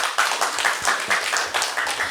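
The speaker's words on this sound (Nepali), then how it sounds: "जोरदार ताली।" An audience at a Nepali televised dohori singing program claps together, a dense, steady burst of applause with some louder individual claps and no voices over it.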